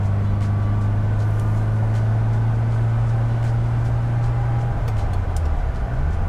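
A restored 1979 Ferrari Dino 308 GT4 cruises from inside the cabin, its engine a steady loud drone that dips and shifts near the end as it changes into fourth gear, with constant road noise.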